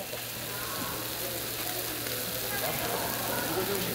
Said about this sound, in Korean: 지글지글 달궈진 불판으로 고소한 냄새가 유혹하는 곳.